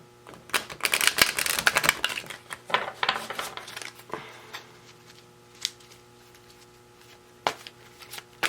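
Tarot cards shuffled and handled at close range, a dense run of riffling, snapping clicks for the first few seconds, then thinning to sparse single taps and flicks in a quiet room.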